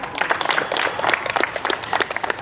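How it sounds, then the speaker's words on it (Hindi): Enthusiastic applause from an audience at a seminar on building wealth, dense overlapping claps with a lively uneven rhythm running straight through the short stretch. "इनके लिए जोरदार तालियां"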